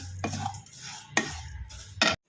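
Roasted vermicelli and semolina stirred in a pan, giving a few distinct scraping strokes of a spoon against the metal at uneven intervals, close and moderately loud, with no talking.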